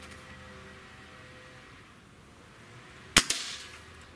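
A Hatsan 135 .30 caliber break-barrel air rifle fires a JSB 50.15 grain pellet, giving one sharp, close crack followed by a quick metallic report, after several seconds of faint background hiss.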